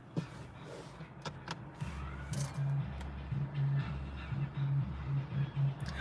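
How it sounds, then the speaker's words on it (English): A car radio turned up loud in a vehicle waiting at a stoplight, its thumping bass beat pulsing steadily from a short distance amid street noise. "Man, they got their radio up loud. They're sitting at that stoplight."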